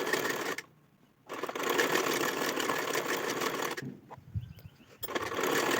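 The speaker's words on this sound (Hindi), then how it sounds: "आप देख सकते हो मैं कमर की तरफ भी सिलाई लगा रही हूँ।" A sewing machine stitches along a blouse back neckline and waist in rapid whirring bursts, with two brief pauses, loud and close, and no talking.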